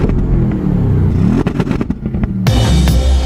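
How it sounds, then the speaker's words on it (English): Audi RS 6 estate with a 4-litre twin-turbo V8 roaring close and loud, engine note rising and falling with throttle blips and a sharp surge of revs near the end, no voices. "comes from a 4-litre twin-turbo V8, the same V8 that you'll find in a V8 Bentley Continental GT, which means that it makes one hell of a noise"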